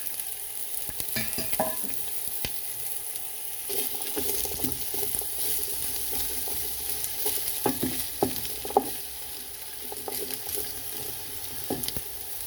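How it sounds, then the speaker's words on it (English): Potatoes and carrots sauté in coconut oil in a pot, giving a soft continuous sizzle broken by scattered clicks and scrapes of stirring, close by and fairly quiet. "I added a bit more coconut oil to my pot, and I'm going to let this saute down for a few minutes"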